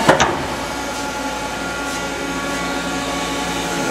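A 2006 Hardinge GT27SP CNC turning center loops a small program with the spindle at 3,500 RPM. A steady mechanical hum and whir runs throughout, opening with a brief clunk.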